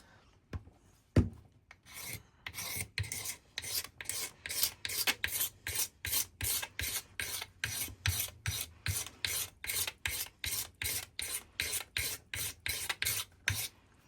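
A single-edged razor blade scrapes old paint and finish off a wooden surface in a fast, regular series of rasping strokes, close and crisp, with no talking.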